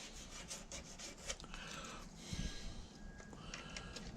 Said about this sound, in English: I can sand off a little bit on this sanding table here.